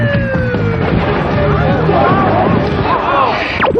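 An ambulance siren wails with sweeping, rising and falling tones over a loud street scene, with crowd noise and talking beneath it, from a televised account of a Philadelphia gang shooting.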